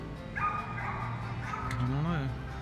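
Agitated dogs at a campground, a short burst of yips and whining barks, fairly close, with wavering whimper-like tones toward the end over a low rumbling background.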